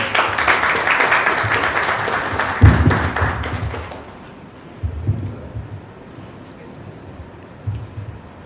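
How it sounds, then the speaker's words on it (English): An audience at a business plan competition applauds to welcome a speaker, loud continuous clapping for about four seconds that stops abruptly, followed by a quiet room with a few thumps. "Please welcome Mr. Gurkirat Singh with a huge round of applause."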